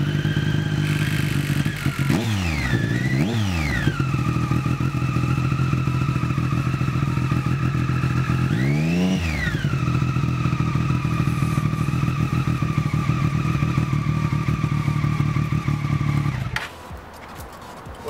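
A motorcycle engine idling steadily right after an oil change, loud and close, with a few brief revs rising and falling early on, then a steady idle before it cuts off near the end.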